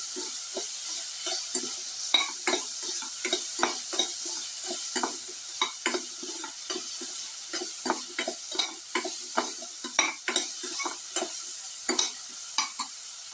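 Shallots and other ingredients for a coconut tomato dip sauté in a pan, a soft steady sizzle broken by repeated scraping stirs in an uneven rhythm, close and fairly quiet, with no talk.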